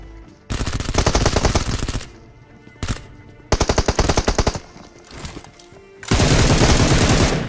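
Automatic gunfire in a shooting video game comes in loud, close bursts of rapid shots separated by short pauses, ending in a sustained heavy burst, with no talking.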